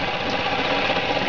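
A spinning Bedini SSG motor with its magnets whirling past a coil gives a steady, loud, continuous mechanical whir and buzz that holds even throughout, with no voices.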